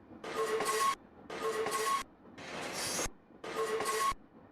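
Interurban train running in the Train Sim Classic simulator on a San Francisco to Sacramento service, with a glitched sound looping in four evenly spaced, loud rumbling bursts separated by short gaps of near silence.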